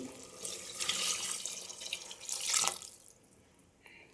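Water pours steadily into a cooking pot, a broad continuous splashing that swells briefly near the end before cutting off.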